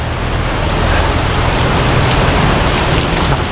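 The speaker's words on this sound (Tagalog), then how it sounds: "Lakas ng ulan." Heavy rain pours down steadily, a dense, loud hiss of drops drumming on surfaces with no pauses or voices.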